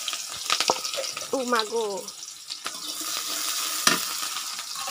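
Chopped onion goes into a hot pan for a catfish and potato curry and starts frying with a steady sizzle, with spoon stirring and a short exclaiming voice near the start.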